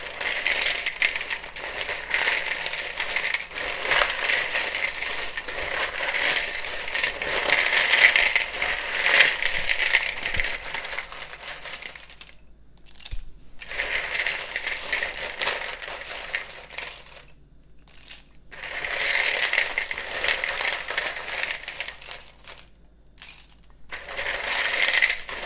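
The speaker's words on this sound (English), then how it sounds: "So you may want to also turn down the volume, because it can be very loud when I shuffle these." Paper name slips shuffled in a bowl, giving loud, close bursts of dry rustling and rattling in several waves, separated by brief silent pauses.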